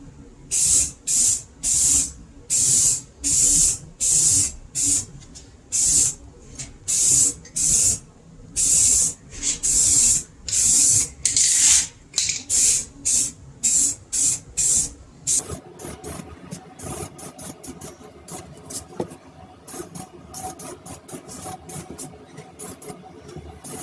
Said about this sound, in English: I'm ready to paint, and let's see what happens.